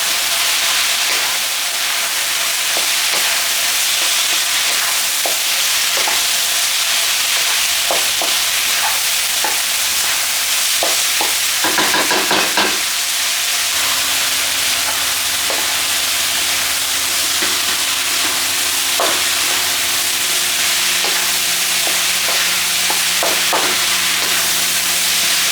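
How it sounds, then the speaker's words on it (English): Mushrooms stir-fry in a pan with other ingredients, a steady close sizzle and hiss running throughout with intermittent scraping and stirring clicks, and no voices over it. "Okay, let's add in our mushrooms. Cook up the mushrooms with the ingredients."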